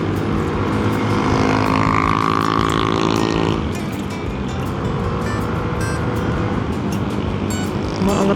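A CVT scooter engine drones loud and close, its steady harmonic tone rising as it accelerates to overtake, then easing into a rougher, windier road noise after about three and a half seconds.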